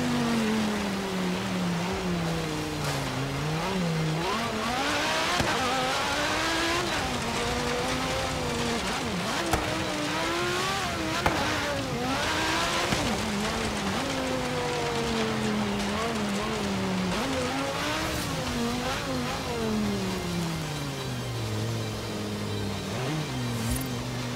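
A car revs and shifts as it drives around in Forza Horizon 3, its engine note rising and falling continuously and loudly throughout, with a steady rushing noise underneath.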